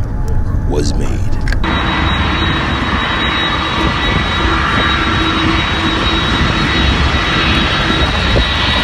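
Jet airliner engines roaring loud and steady after landing on an inaugural Nairobi to New York flight, a continuous broadband rumble and whine filling the cabin, with brief faint voices at the start.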